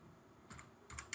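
A few quiet keystrokes on a computer keyboard, two brief clusters of soft taps heard close but faint in a quiet room.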